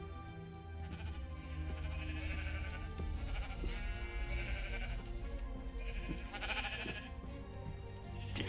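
In Minecraft, played with the FTB Ultimate modpack, sheep bleat in drawn-out wavering calls that recur several times across a steady, busy game soundscape at moderate loudness.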